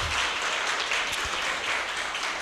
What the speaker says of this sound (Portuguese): peço agora uma salva de palmas para o nosso irmão Alberto Lemos